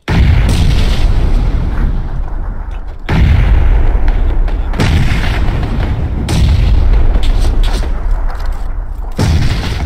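Grenade blasts in PUBG hit hard and loud, several heavy booms landing a few seconds apart, each with a sharp onset that decays into a rumbling tail.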